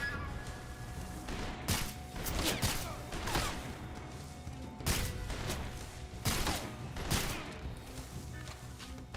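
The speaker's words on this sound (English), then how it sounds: "I'm shooting." Gunfire in Metal Gear Solid Delta: a string of sharp shots, some clustered in quick bursts, sounding over about nine seconds amid mechanical clanks and a low ambient bed, fairly close.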